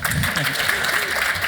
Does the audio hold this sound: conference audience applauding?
yes